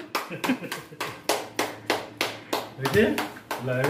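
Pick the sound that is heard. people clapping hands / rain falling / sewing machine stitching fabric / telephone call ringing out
people clapping hands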